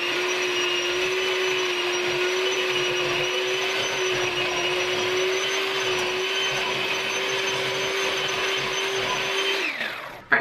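Electric mixer beating butter and cream cheese for a cinnamon swirl bundt coffee cake batter, a loud steady motor whine held for about ten seconds before winding down and stopping, with no talking.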